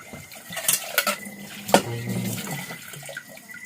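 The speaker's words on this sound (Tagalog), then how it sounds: "Niagas pang tubig." Water runs from a kitchen tap into a sink while dishes and cutlery clatter, with a sharp clank partway through; steady close splashing throughout, no talking.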